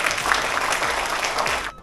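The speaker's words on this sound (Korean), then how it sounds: "귀한 책을 내주신 훈동이 형께 박수 한번 주세요." A short burst of steady audience applause at a book launch event in Korea, many hands clapping densely and fairly close before cutting off abruptly.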